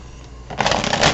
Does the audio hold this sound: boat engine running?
no